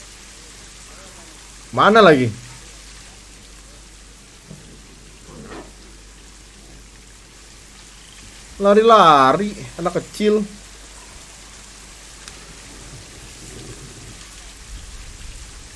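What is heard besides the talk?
rain falling in video game Planet Zoo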